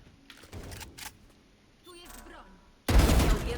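A few sharp gunshot bursts crack in Valorant game action, with a brief voice in between and a loud burst of fire near the end.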